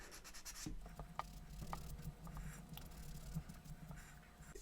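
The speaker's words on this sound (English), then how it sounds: "that's why I was just going to test the sanding" Rough scratchy rubbing strokes of sandpaper on moldable foam clay, close up, in irregular repeated passes.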